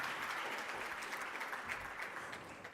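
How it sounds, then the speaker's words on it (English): Faint, distant applause from an audience at a youth economic council event as a mining engineer is welcomed, a steady wash of clapping with no speech. "Please give her a round of applause."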